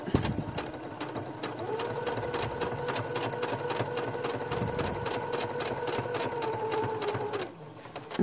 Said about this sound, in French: Alors, et on va jusqu'au bout.